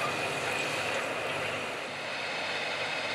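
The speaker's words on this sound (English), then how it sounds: "9570R four-wheel drive tractor and 2210 field cultivator are working up ground" A John Deere 9570R four-wheel drive tractor pulls a 2210 field cultivator across a field in light rain, a steady, fairly distant engine drone that holds even with no breaks.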